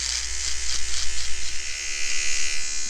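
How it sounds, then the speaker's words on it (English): A Microtouch Solo electric trimmer buzzes steadily up close while cutting facial hair, its whine rising and dipping in quick pulses as it moves across the face. "I think I might be using this as my facial hair trimmer"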